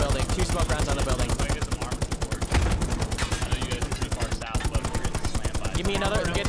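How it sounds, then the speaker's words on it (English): Rapid automatic gunfire rattles steadily throughout a Hell Let Loose tank battle, with a heavier boom near the middle, loud and continuous under the crew's radio chatter. "Give me two smoke rounds on the building."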